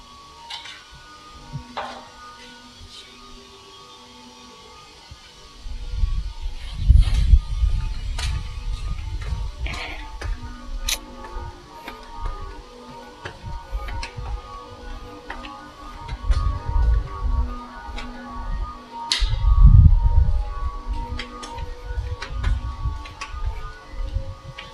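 Factory machines in a Japanese company run with light ticking and clicking over a low mechanical hum, swelling into heavier thumping, rumbling bursts at intervals.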